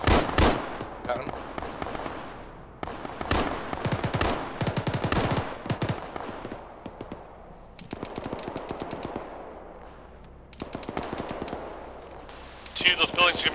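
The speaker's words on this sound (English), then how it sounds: "I can hear gunfire coming out of them." Bursts of rapid gunfire crackle repeatedly through the clip alongside quieter game sound effects, with radio-style voices talking at times.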